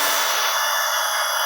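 A drill bores into wood with a harsh, steady grinding rasp, close and loud, unbroken for over a second with no voices.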